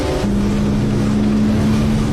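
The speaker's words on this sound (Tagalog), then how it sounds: "May bangka!" A boat engine drones steadily at close range, a low continuous hum with water and wind noise around it.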